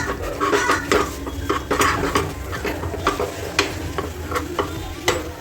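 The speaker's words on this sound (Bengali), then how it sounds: "অল্প অল্প করে জল, অল্প অল্প করে এটাকে নাড়াতে হবে যতক্ষণ না এই লাম্পসগুলোকে নরম হয়ে যাবে" A spoon stirs white sauce for pasta in a pan as water is added, with repeated clinks and scrapes against the metal in an irregular rhythm over a low simmering hiss, close and fairly loud.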